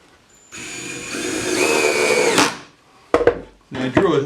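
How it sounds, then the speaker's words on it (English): A power drill runs in a steady burst of about two seconds while driving a screw into a wooden sailboat stem, then stops, followed by a few short clunks and handling knocks. "I'll put a few more screws in here, keep it nice and tight, rigid, keep it from moving about."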